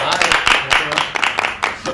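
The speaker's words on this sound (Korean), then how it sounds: "박수 주시죠" A small group claps at the start of a Korean interview as the actor Park Chan-woo is introduced. The claps are quick, irregular and close, with voices mixed in underneath.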